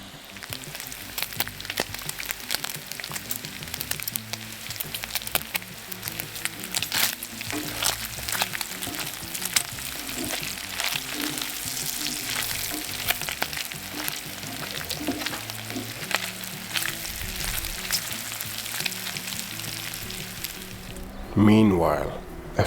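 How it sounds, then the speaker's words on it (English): Bacon renders and fries over a South African braai fire, giving a steady, dense sizzle and crackle that holds throughout, with faint stirring clatter and a brief louder bump near the end. "We render the bacon first until it's beautifully crispy."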